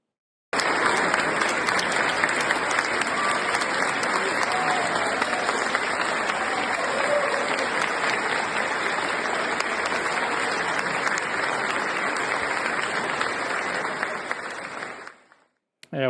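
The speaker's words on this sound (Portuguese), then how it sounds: "Vamos ver a cena do governador da Matança aplaudido pelos cristãos dentro da igreja." Christians inside a church applaud a state governor with sustained, loud crowd clapping that runs unbroken for about fifteen seconds before cutting off abruptly.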